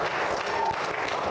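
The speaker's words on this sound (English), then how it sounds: "Round of applause for them" A debate audience applauds steadily throughout, a dense, even wash of clapping from a crowd with no pauses.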